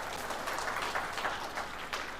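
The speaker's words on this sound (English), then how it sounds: "Clap to that." Lecture audience applauding together, a steady wash of clapping that stays fairly even at moderate volume for the whole stretch.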